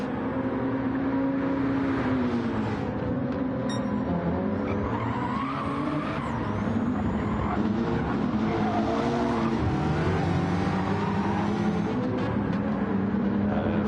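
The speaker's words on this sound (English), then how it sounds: "taping a microphone to the exhaust pipe of that Mustang and listening to that all night" A Ford Mustang Gr.4 race car growls through its exhaust in a racing video game, a loud continuous engine drone with shifting pitch, joined by squealing tires and other cars close by.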